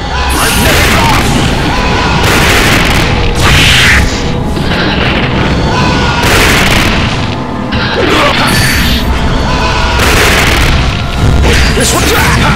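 Magneto's Magnetic Blast special attack in a MUGEN fighting game, heavy booming impacts and whooshing crashes repeating in quick succession, loud over a busy background of game music and effects.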